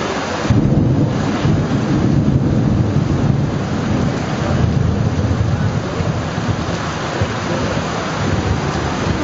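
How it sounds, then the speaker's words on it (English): Heavy rain pours down in an intense electrical storm in the Borneo highlands, a dense continuous roar with deep rolling thunder rumbling underneath, loud and steady throughout with no talk. "One of the most intense electrical storms I've ever seen."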